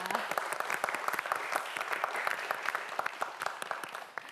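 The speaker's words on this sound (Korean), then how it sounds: "큰 박수 부탁드립니다" A studio audience on a televised student quiz show claps steadily, a dense patter of applause lasting several seconds with no voices over it.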